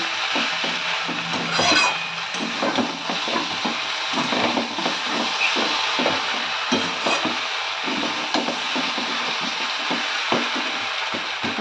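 A spatula scraping and stirring dry chicken fry in a pan, steady irregular scrapes and clatters running throughout over a constant background hiss, close and alone without talking.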